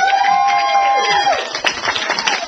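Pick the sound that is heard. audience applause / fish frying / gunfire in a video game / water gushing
audience applause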